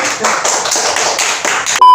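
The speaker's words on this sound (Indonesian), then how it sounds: "Tepuk tangan dulu" A short round of clapping from an audience for a guest at a talk event, rapid dense claps for under two seconds, cut off by a sudden steady electronic tone.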